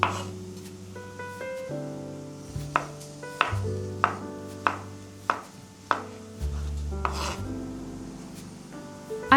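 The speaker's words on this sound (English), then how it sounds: "You can cut mushrooms as you wish." Knife chopping mushrooms on a cutting board, a steady series of crisp, distinct knocks over soft background music, close and clear with no talk.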